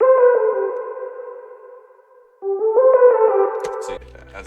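A synth lead processed through Fruity Delay 3 with a low-pass filter plays sustained tonal notes with echoing repeats, fading out, then a second phrase rises before cutting off abruptly.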